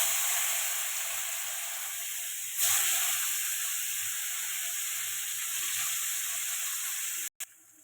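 Onions frying in hot oil with whole spices and bay leaf for a fish curry, a constant loud hiss and sizzle that surges briefly as they go in, then settles and cuts off abruptly at the end.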